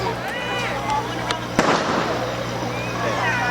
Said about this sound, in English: So we just deploy the flashbang.